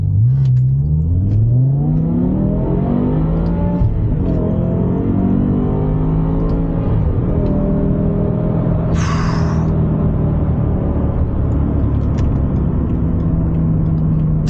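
A 2006 BMW E60 M5 with a naturally aspirated V10 launches hard from a stop, the engine note climbing through the revs in rising sweeps with quick dips at each gear change, loud and close from inside the car.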